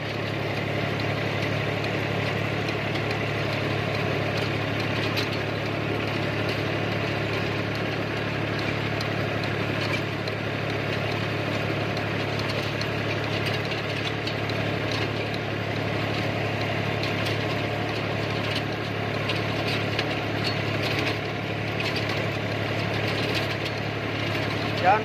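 Steady diesel engine drone from a remote control Massey Ferguson Smart 245 DI tractor driving a 42-blade Fieldking rotavator through wet soil, a constant mid-pitched hum at moderate distance with someone talking over it.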